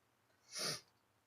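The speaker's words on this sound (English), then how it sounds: "Don't mind the sniffling." A single short, sharp nasal sniff close to the microphone, quiet and isolated against a soft background hum.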